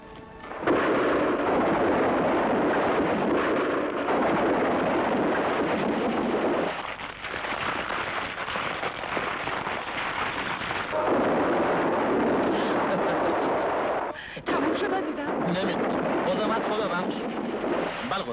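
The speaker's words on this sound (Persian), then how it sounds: "خانم دلشون میخواست انفجار معدن رو از نزدیک ببینه." A mine blast explosion in a 1968 Iranian film sets off a long, loud, roaring rumble that keeps going for many seconds, easing briefly twice before surging back with crackling debris-like texture.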